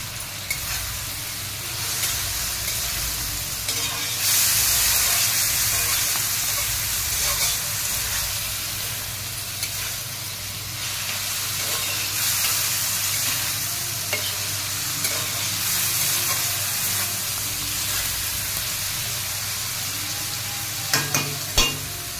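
Chopped tomatoes and spinach sizzling loudly in a pan while being stirred continuously, a dense steady frying hiss with scraping strokes throughout and no voices.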